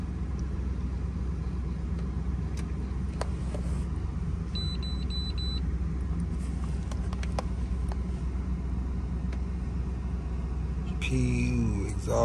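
A truck engine at a junkyard runs at a steady low rumble throughout, with a few faint beeps and clicks, then a brief louder sound near the end.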